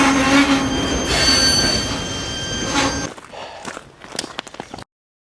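A freight train rumbles loudly with squealing wheels, then fades to a quieter rail yard in Lincoln with scattered clanks and footsteps on gravel.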